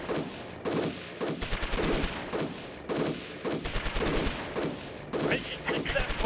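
Militia units opening fire in the strategy game Shadow Empire, loud bursts of rapid gunfire and volleys recurring in waves about once a second, near and dense, with no one speaking.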